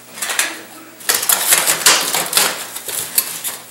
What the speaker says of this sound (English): Slide the flex into the collar,